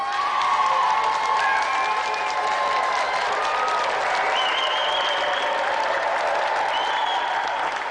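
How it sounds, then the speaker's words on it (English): A television studio audience applauds for guest Cathy Dennis on the 1992 game show GamesMaster, a dense and steady wash of clapping with some cheering mixed in that holds strong for the whole stretch. "Another round of applause for our special guest"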